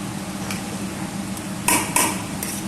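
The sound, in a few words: stirring whole masoor dal with spices in a pot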